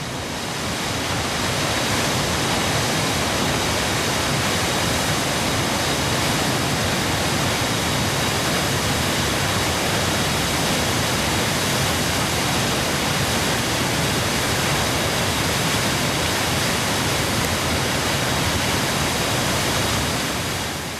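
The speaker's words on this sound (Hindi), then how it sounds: "धनछो झरने के।" Dhancho waterfall on the Manimahesh Kailash trek roars in a loud, unbroken rush of falling water, close and steady throughout with no voices.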